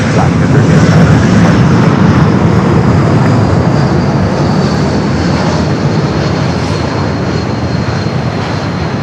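An airliner taking off from runway 24 left at LAX gives a loud, continuous engine roar with a faint high whine, holding strong for several seconds and easing slightly toward the end.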